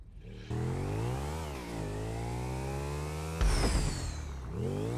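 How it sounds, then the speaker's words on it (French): A motorcycle engine in GTA 5 during a Stryder parkour run, a buzzing, high-revving motor that rises and falls in pitch, with a sharp rev surge near the end, loud and close. "pas encore cette moto là"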